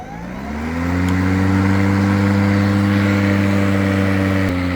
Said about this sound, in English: pressing this button here, the handle, and pressing it at the same time will turn the motor on.